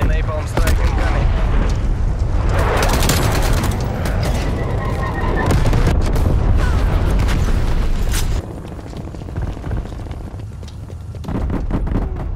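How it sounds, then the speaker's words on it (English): A napalm strike in Call of Duty: Black Ops Cold War on the Nuketown map lands in loud, rumbling blasts with crackling fire and gunfire, dense for about eight seconds before thinning into scattered bursts, with game voice callouts mixed in. "Enemy napalm strike incoming."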